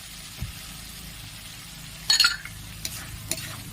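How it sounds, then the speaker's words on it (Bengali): Grated coconut frying in an oily spice paste for prawn and pointed gourd curry, a low constant sizzle broken by a brief burst of spoon scraping and a couple of clinks against the pan. "বেশ ভালো করে কষিয়ে নেবো"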